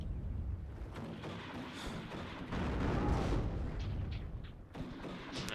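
Artillery fire support in the real-time strategy game Warno rumbles as a dense, continuous barrage of booms and blasts, loud and steady throughout with no voices.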